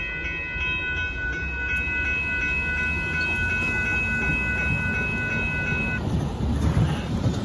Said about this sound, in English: There goes that northbound Union Pacific auto train with Cassidy down in the Mexico going by.